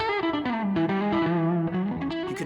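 Electric guitar played through a Positive Grid Reactor amp with onboard effects, a sustained distorted lead line with bends and chorus-like shimmer, loud and close, blending room sound and line out, for a cover; no voices.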